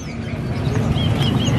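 Cucak ijo songbirds chirp at a busy Palembang bird market: dense, loud overlapping tweets and calls sit over a thick rumble of market noise throughout.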